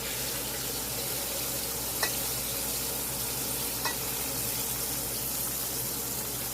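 Pork chops fry in a pan with a steady, close, even sizzle that runs throughout, broken only by two faint clicks of utensils.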